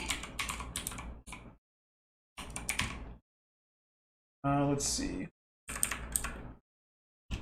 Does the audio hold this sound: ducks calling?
no